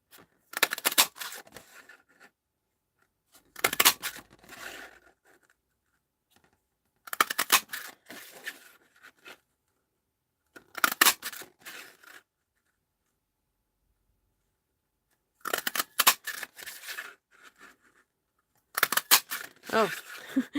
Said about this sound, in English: And then I wanted to cut some of these leaves from the craft paper.